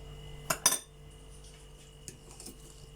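A spoon clinks against a bowl while yeast, sugar and milk are mixed, giving two sharp metallic taps close together, followed by a few fainter scrapes and clinks in a quiet kitchen.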